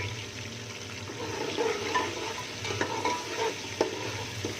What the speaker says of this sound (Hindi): अच्छे से इसको भूनना है हमें।